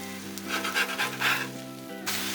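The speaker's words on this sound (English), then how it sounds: "I say it's time to flip this burger already." Smashburger patty and pineapple frying on a Blackstone griddle, a steady close sizzle with scraping, rubbing strokes of a wide metal spatula flipping the crusted burger.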